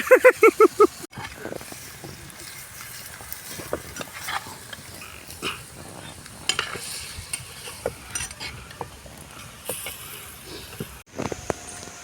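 Chicken soaked in salt water fries in a pan for Andhra-style restaurant chilli chicken, with quiet sizzling under a run of sharp scraping and clattering stirs, some close and isolated, others in quick bursts.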